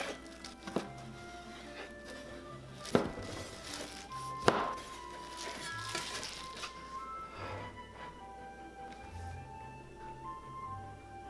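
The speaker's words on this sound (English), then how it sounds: "And cut it into 1-inch pieces" A knife cuts pork belly into 1-inch pieces on a board, a few sharp separate chops and thunks spaced irregularly, fairly quiet with faint background clinks and no talk.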